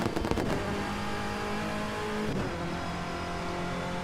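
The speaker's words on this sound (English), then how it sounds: "Another thing I really like about the BRZ is the sound. Just listen to this." A Subaru BRZ in the Project Trackday racing game revs its engine, a steady, loud engine drone with rising and shifting tones and no talking.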